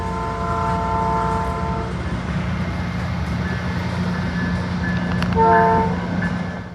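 A South Shore Line freight train led by two veteran locomotives rumbling past near Portage/Ogden Dunes, Indiana, with a steady low drone and rattle, its horn sounding loudly at the start and again briefly near the end.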